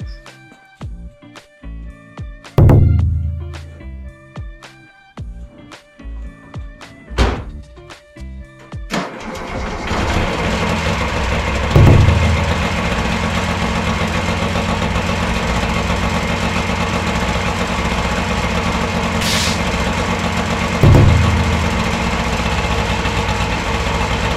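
Small two-stroke engine of a Subaru 360 kei car being restored, starting after a clutch wire adjustment: a few cranking attempts and knocks, then the engine catches and runs steadily and loudly nearby with occasional revs.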